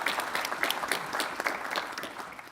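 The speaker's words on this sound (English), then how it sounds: "I think we can have a round of applause" Brief round of audience applause for a speaker at an energy conference session, many hands clapping at moderate loudness in a steady burst.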